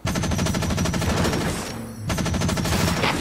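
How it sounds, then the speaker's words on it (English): Mech machine gun in the video game Front Mission Evolved firing in rapid bursts, loud and dense rattling, with a brief gap before firing resumes. "Remember to fire your machine gun in bursts to avoid overheating."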